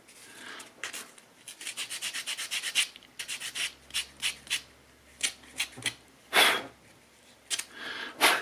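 A small plastic sprocket from a 1/16 HobbyBoss Tiger I tank model is sanded by hand, giving bursts of quick, close rasping strokes, some in rapid runs and others spaced apart with brief pauses.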